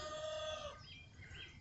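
A rooster in a home yard in Englewood, Tennessee crows once, a single drawn-out call at moderate distance that fades into outdoor ambience.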